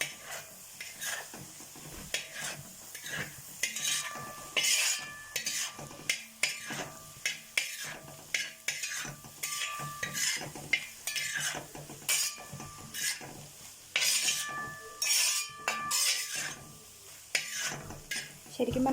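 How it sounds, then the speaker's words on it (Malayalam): Clam roast with ground pepper being stirred in a pan: repeated close scraping and clinking of a spoon against metal in irregular strokes over a low sizzle, with brief pauses between bursts. "ഇനി നമുക്കിത് മിക്സ് ചെയ്യാം."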